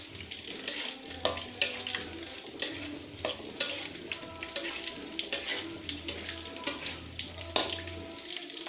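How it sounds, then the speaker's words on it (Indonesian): Tofu fries in a pan, a continuous close sizzle and crackle under occasional scraping and stirring clatter, with no voices. "ini dia tahunya lagi digoreng"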